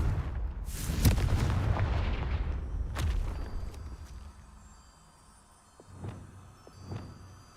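A Confringo fire spell explodes in Hogwarts Legacy with a heavy booming blast that rumbles and fades over several seconds, then two smaller thuds follow.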